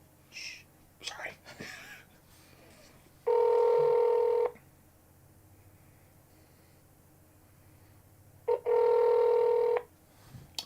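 Telephone ringback tone on a phone call, heard twice as two long, steady buzzing bursts about four seconds apart, loud and alone, with soft whispering before the first.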